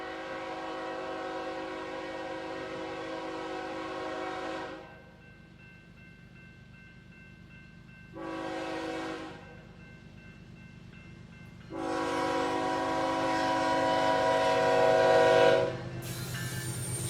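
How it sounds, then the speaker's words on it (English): Freight train led by an ES44C4 locomotive sounds its horn in long blasts, one sustained, a short one, then another long one, over a steady rumble of the approaching train. "It would be only a few more minutes before it came into sight, led by ES44C4"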